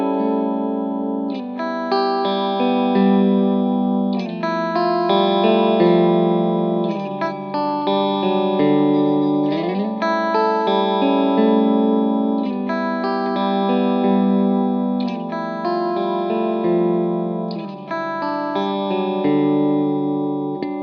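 Chorus-soaked guitar plays chord shapes shifted up the neck while open strings keep ringing underneath, a continuous and moderately loud strummed progression with light reverb and no talking.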